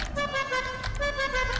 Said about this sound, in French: c'est son klaxon.